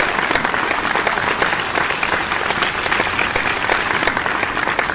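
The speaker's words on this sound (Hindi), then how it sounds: "तो तालियां तालियां तालियां" Dense, steady applause from a crowd at a Hindi poetry recital fills the air, many hands clapping at once in a loud, continuous roar that holds evenly throughout.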